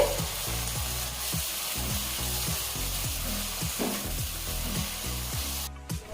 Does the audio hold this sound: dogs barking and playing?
no